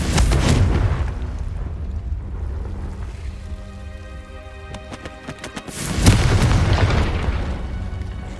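A Confringo fire spell detonates in Hogwarts Legacy with a loud rumbling blast, then crackling and fizzing, and a second heavy boom hits later, all close and full.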